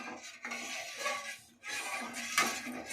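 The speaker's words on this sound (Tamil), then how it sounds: "நல்லா சிம்லேயே வச்சு அடி பிடிக்காம நல்லா கிண்டி விட்டுட்டே இருக்கணும்" Spoon scraping and stirring a thickening homemade jelly mixture in a pan kept over low heat, a continuous close rasp and clink of utensil against metal with short pauses, no voices.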